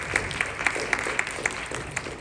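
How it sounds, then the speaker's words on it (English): Applause for the 2023 Zoning Commission candidates after a Q&A session, a smallish crowd clapping with distinct, regularly spaced sharp claps standing out over a softer bed of scattered hands. "A round of applause for the zoning candidates"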